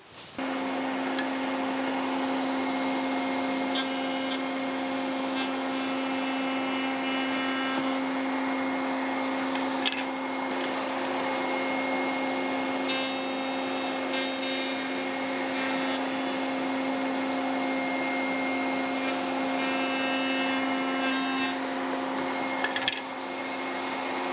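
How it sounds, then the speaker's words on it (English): A power tool such as a router cuts a 5mm groove around the ends of dovetailed wooden gift boxes, making a steady, close, high-pitched motor whine with short rises and dips in cutting noise over about twenty seconds. "I'm going to cut a 5mm groove all the way around the end of these"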